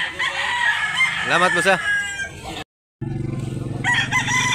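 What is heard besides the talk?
rooster crowing at chicken market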